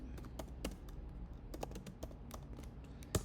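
Typing on a computer keyboard, a quick irregular run of close clicking keystrokes at low level, with no talking.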